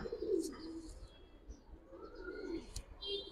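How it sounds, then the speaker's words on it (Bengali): Silver Giribaz highflyer pigeons coo softly in a few low, rolling bursts, with faint chirps and background noise in between. "একদম অরিজিনাল র সিলভার কবুতর"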